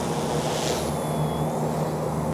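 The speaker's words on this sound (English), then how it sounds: "Nice flying helicopter." A Heli-Max Axe 100 CP micro RC helicopter flies outdoors in wind, its steady high whine and buzzing rotor hum continuous and fairly close, with no talk.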